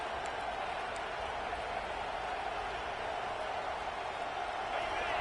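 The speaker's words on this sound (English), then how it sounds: "This crowd bringing the energy and noise early." A stadium crowd in an American college football video game gives off a steady, even roar of cheering that stays at a constant level without voices on top.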